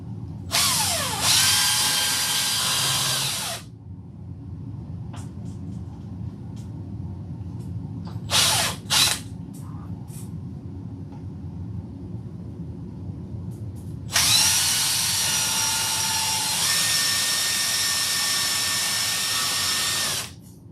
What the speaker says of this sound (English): It is a drill